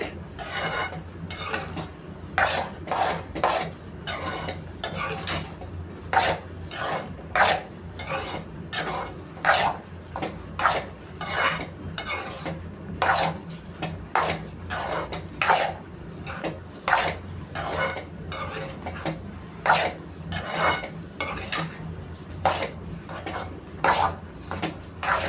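Spoon stirring wheat rava upma in a cooking pan, rapid repeated scraping and clinking strokes in a steady rhythm, close and alone for about twenty-five seconds.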